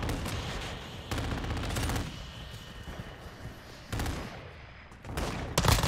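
Rapid bursts of BAS-P submachine gun fire in a video game match, loud and dense, with several distinct volleys and short pauses between them, and no talk over the shooting.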